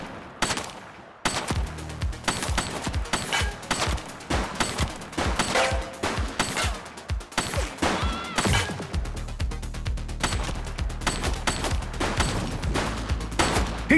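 Gunfire in the police video game The Precinct comes as dense bursts of rapid shots and loud cracks. Crashes follow, then a steady engine-like rumble, all close and loud, with no talk.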